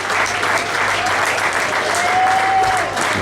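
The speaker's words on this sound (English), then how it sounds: "Let's hear it for KM" Crowd at an SWW independent wrestling show applauding steadily, a dense, even wash of clapping that holds at full strength for the whole stretch with no voices standing out.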